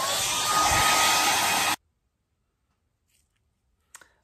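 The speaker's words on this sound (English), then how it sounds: "I am going to speed this up again with the hairdryer" A hair dryer blows hot air over contact cement, a loud steady whoosh that cuts off abruptly after under two seconds, followed by near silence and a faint click.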